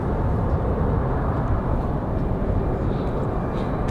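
A Delta airliner departs Raleigh Durham airport as a steady, broad jet roar holds at even loudness throughout, with no one talking over it.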